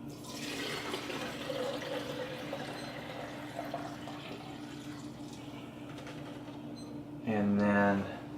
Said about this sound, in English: what we'll do is we'll pour that in here.